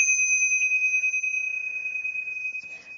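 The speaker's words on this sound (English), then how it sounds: "we're going to ring those tingsha bells to clear out any lower frequencies" Tingsha bells struck together, a bright sustained metallic ring that hangs steadily and loud, with faint rustling and a soft knock near the end as it continues to sustain.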